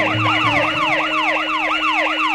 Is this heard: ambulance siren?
yes